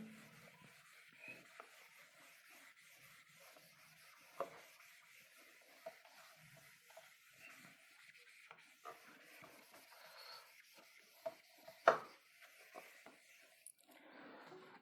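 Marker or chalk rubbing and scraping on a board while a ray diagram of a Michelson interferometer is drawn: soft, irregular strokes with occasional sharper taps, fairly quiet and with no talk.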